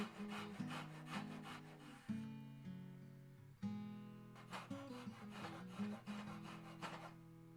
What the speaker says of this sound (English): Cutting it off with my Ryobi saw.